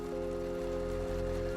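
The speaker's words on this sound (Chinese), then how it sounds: "只有淅淅沥沥的雨点落在树叶上" Light rain dripping onto tree leaves in a quiet forest at night, a soft, steady patter that holds even throughout, with a low continuous hum underneath and no voices.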